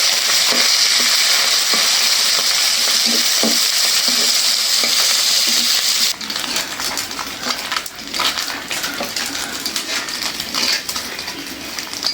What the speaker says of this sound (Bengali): তেল গরম হয়ে গেছে দিয়ে দিলাম পুদিনা